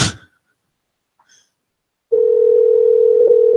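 A steady, loud electronic telephone tone starts abruptly and holds unbroken after a call goes straight to voicemail, following a moment of near silence.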